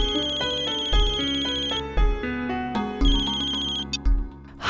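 A telephone ringtone plays during an outgoing call, a loud electronic melody of repeating tonal notes in a steady rhythm, heard alone with no talking.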